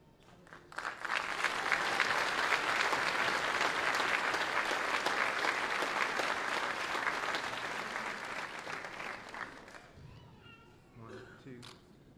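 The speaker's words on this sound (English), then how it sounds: "Please join me in a round of applause for our retirees and their families." Applause at a Fort Jackson Army graduation and retirement ceremony, building quickly into sustained crowd clapping that fades out toward the end, followed by a brief voice over a loudspeaker.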